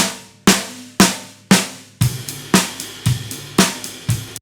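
A snare drum struck at a steady pace through EQ'd, saturated overhead mics, each hit bright and crisp with a gritty, saturated sizzle that decays quickly.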